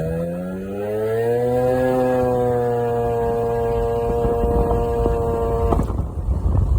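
A Vento Triton R4 two-stroke engine idles with a steady buzzing hum whose pitch climbs slightly then holds, close and loud, ending with a brief clatter.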